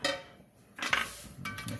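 A spoon clinks and scrapes inside a pot of pozole with hominy and guajillo chili sauce, a few short metallic knocks and stirs separated by a quiet pause, close and fairly soft.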